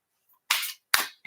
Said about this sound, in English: I'm going to shuffle my cards again.